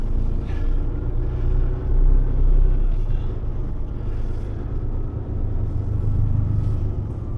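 Low, steady engine rumble of a car driving slowly nearby, swelling slightly at times, with no voices.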